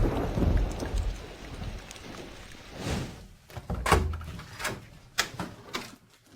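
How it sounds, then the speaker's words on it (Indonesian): Rain falling outside, heard as a steady broadband wash that fades after a few seconds, followed by several scattered dull thunks and knocks with no talking. "Di luar sedang hujan."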